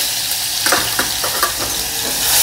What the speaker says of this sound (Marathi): त्याच्या पाठोपाठ तडतडल्यावर आलं लसूण पेस्ट